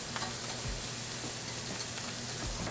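Maple sausage frying in a pan, a dense continuous sizzle and crackle heard close up, with faint stirring and a low hum underneath, and no talking.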